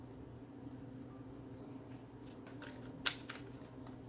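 Unstoppable You oracle cards are shuffled quietly near the microphone, giving soft riffling and flicking with one sharper snap, over a low steady room hum.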